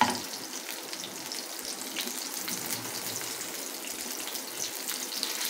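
Chicken cheese kebabs fry in oil over a medium flame with a constant, moderately quiet, crackling sizzle that holds steady throughout, with no speech.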